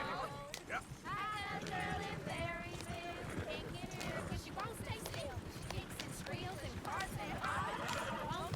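Horse neighs and clip-clopping hooves in Red Dead Redemption 2, heard steadily throughout under overlapping voices and busy game ambience.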